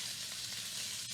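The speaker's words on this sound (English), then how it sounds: "You hear that sizzle?" Salted pieces of pork tenderloin sizzle and fry in a hot cast iron skillet, giving a steady, close, crackling hiss with no voices.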